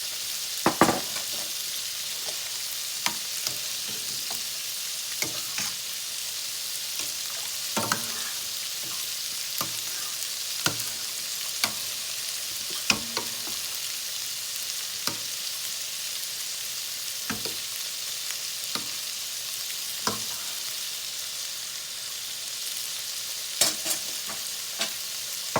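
A quarter of a chopped onion fries in a pan, giving a steady, close hiss and sizzle for about 26 seconds, with occasional sharp spatula scrapes and pops and no voices.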